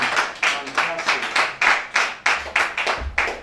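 Rhythmic clapping at a Christian entrepreneurs' anniversary gathering in Lagos, with sharp claps repeating at an even pace of roughly two or three per second and faint voices underneath.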